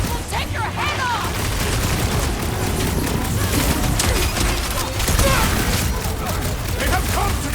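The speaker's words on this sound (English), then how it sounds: "They're bringing out the big guns! Trust me! Those Nova Corps cannons will take your head off!" Heavy Nova Corps cannon fire in the Guardians of the Galaxy video game, a dense, continuous barrage of booming shots and blasts rolling without pause, loud and close.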